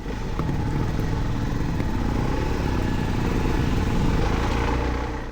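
A Suzuki DR-Z4S motorcycle engine lugs along in a higher gear while riding, a steady, loud, close thrum with a constant rumbling texture that holds throughout, with no voices.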